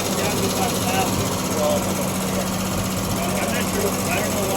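A 1974 Triumph TR6 engine with backfiring trouble idles fast and high, giving a loud, steady, close-up mechanical drone that never drops.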